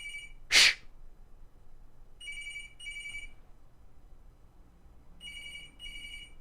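A telephone rings in two separated pairs of bright, bell-like trills, clear and moderately loud over a quiet background, preceded by a single sharp thump near the start.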